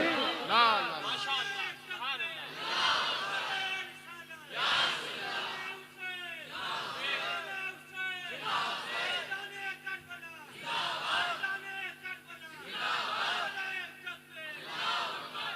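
A large crowd at a religious gathering in Bansa Sharif, Barabanki chants loudly in response to the takbir call. Repeated voiced shouts swell and fall in a rhythm roughly every two seconds throughout.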